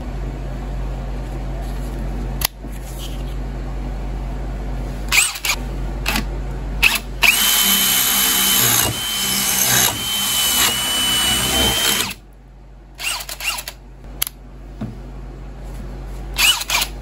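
A Bosch GSB 18V-150 C cordless hammer drill fitted with a 12 mm multi-construction bit drills in loud, sustained runs with a steady whine, broken by brief pauses and short bursts near the end.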